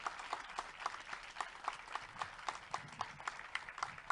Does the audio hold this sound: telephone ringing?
no